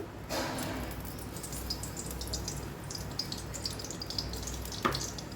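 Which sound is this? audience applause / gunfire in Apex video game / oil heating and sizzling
oil heating and sizzling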